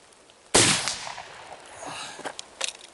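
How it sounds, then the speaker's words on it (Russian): A sharp, loud single shot from an IZhK-59 air rifle firing a Leningradka pellet, a sudden crack that tails off into a brief ringing decay, followed by a few faint clicks and knocks. "3 выстрела произвел"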